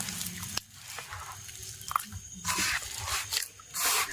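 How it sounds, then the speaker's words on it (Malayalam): Jackfruit mixture for Kerala chakka theral being kneaded by hand, with soft wet squishes, sticky squelches and scraping sounds in close, irregular bursts. "അങ്ങനെ ഇത് നമ്മുടെ ചക്ക തെരളിക്ക് അങ്ങനെ നന്നായിട്ട് കുഴച്ച് കൂട്ടിക്കൊണ്ടിരിക്കുവാണ്"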